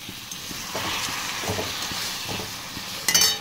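Steady sizzling of food frying in a pan, with occasional stirring clatter and a sharp metallic clink near the end.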